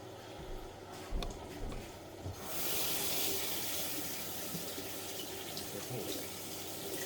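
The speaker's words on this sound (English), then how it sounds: "And let me wash this off real quick." Water runs steadily from a kitchen tap as something is rinsed off under it, a close continuous splashing hiss that grows fuller partway through, with no talk.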